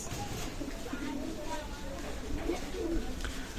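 Rampuri pigeons coo softly and repeatedly against a busy background of voices and ambient noise.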